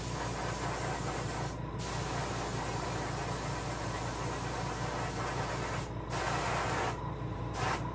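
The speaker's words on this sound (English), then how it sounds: "You may have to angle spray your fin a little bit more." An airbrush spray gun hisses continuously while paint goes onto a largemouth bass fin for taxidermy, with a low compressor hum underneath and a few brief pauses in the spray.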